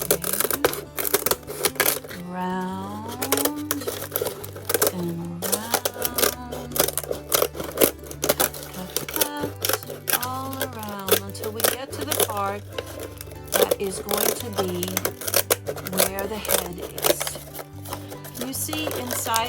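Scissors snip through paper around a marker-drawn outline for an Easter craft, a rapid run of close, crisp cuts under near-continuous talking.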